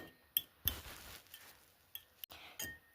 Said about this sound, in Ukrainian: Все яйца разбили и збиваємо их.